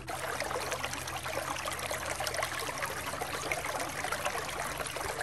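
Water trickles slowly and steadily in a winter stream, a soft continuous close-up dribble heard alone.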